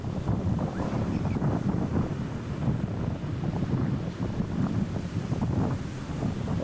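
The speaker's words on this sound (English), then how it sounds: "Don't you love the sound of the surf" Surf from the Pacific Ocean churns steadily at the beach, a constant rumbling wash mixed with heavy wind noise on the microphone, with no voices.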